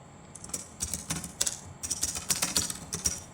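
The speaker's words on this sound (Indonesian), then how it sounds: "kita ketik lagi" Close, steady keystrokes tapped on a computer keyboard while typing in a word processor, an irregular run of crisp clicks with brief pauses and no voices.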